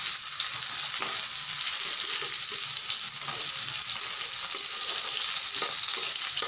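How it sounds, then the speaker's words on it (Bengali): Black cumin seeds fry in hot oil in a pan while cooking a taro-leaf prawn dish, a steady bright sizzle holding even throughout with faint stirring scrapes and no talk. "এরপর আমি কালো জিরেগুলো দিয়ে দিচ্ছি"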